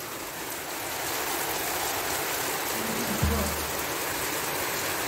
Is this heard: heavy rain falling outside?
yes